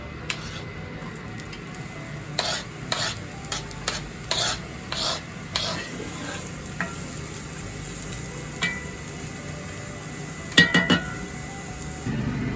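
Onions frying in a pan on a home kitchen stove, a steady soft sizzle running throughout, with intermittent scraping and stirring strokes and a few light utensil clinks over a constant background hum.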